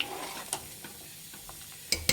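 A spoon scrapes and clinks against a pot of vegetable sambar a few times, sharp taps over a faint, quiet simmer.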